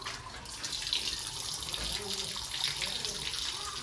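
Drinking water runs steadily from a tap inside a cave in Ubhel garden, a close, continuous splashing gush with faint voices in the background.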